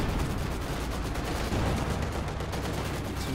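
Artillery barrage and gunfire in a heavy-armour strategy war game, with dense, continuous overlapping blasts and rapid shots forming a loud, unbroken roar of battle.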